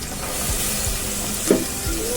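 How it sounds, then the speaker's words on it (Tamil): Fennel seeds and onions sauté in a pan for a sprouts chicken masala, giving a steady soft sizzle with a few stirring scrapes and a brief louder pop. No one speaks. "பாருங்கள், சோம்பு வெங்காயம்லாம் நல்லா வதங்கிச்சா."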